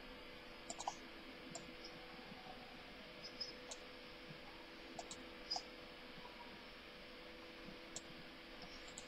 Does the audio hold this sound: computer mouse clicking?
yes